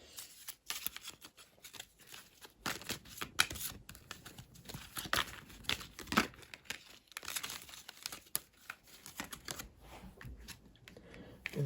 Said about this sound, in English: let me also get one more card out.